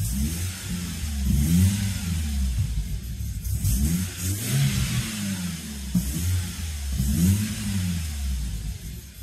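A cold, slightly rough BMW E36 316i engine (M43B16) with a bigger air flow meter revs up repeatedly in rhythmic pulses, rising and falling several times, loud and close.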